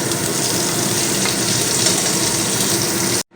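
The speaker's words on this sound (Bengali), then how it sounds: "তো উচ্ছেগুলো ভাজা হয়ে গেছে আমি এবার তুলে নেবো" Bitter gourd pieces fry in hot oil with a loud, steady, dense sizzle that runs unbroken and close, then cuts off abruptly at the end.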